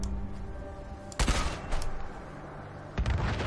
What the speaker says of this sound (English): So this is actually going to shoot a gigantic missile.